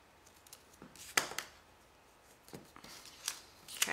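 Scissors snip through ribbon wrapped for a faux bow, with a few sharp close cuts: one pair of quick snips early, then more crisp snips after short pauses, with no talk over them.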